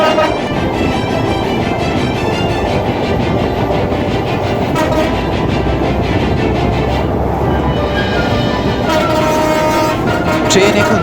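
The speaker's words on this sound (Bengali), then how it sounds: "পদ্মা সেতুতে উঠবে আমাদের ট্রেন" The Sundarban Express running from Dhaka to Khulna through Munshiganj rumbles loud and steady at speed, wheels clattering over rail joints with a distant horn blast, heard from inside the train.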